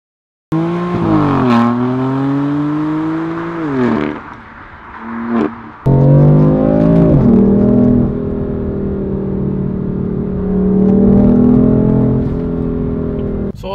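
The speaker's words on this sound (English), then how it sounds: "So as you can see, I'm actually revving the car." BMW M4 Competition engine revving hard with a deep exhaust note, rising and falling in repeated close, loud pulls, with brief dips between revs and no talking.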